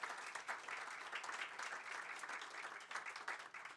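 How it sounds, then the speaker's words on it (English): Audience applause at a donors forum on affordable housing in Northeast Florida, a dense, steady wash of many hands clapping from a seated crowd at moderate distance, sustained throughout with no talk over it. "Can we give everyone a round of applause?"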